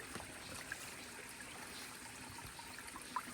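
River water runs steadily downstream in a rural province setting, a continuous close rushing wash with no voices over it.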